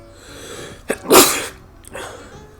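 One sharp sneeze bursts out up close during a pool game, a quick intake of breath just before it and a brief breathy trail afterward.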